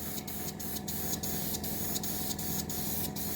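Paint spray hisses steadily and close throughout, camo-coloured paint going onto a model build, broken by short regular bursts of brighter hiss roughly every third of a second.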